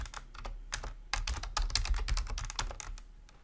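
Keys clatter on a computer keyboard while a username and password are typed, an uneven run of close, crisp taps with short pauses between bursts.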